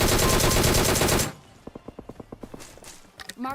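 Gunfire in the mobile shooter PUBG Mobile: a loud sustained burst of rapid automatic fire, then a quieter string of evenly spaced single shots and a final thump.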